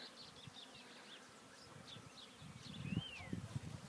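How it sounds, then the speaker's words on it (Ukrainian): A steady buzz of honeybees at a hive drones close by, swelling louder toward the end, with a few faint bird chirps in the background. "Отак бджола працює."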